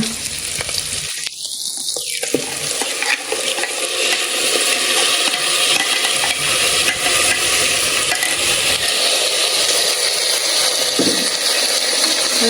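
Ground paste for palak egg biryani sizzles loudly in a hot pan with fried eggs, a continuous frying hiss broken by scraping and stirring strokes throughout.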